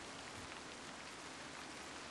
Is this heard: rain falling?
yes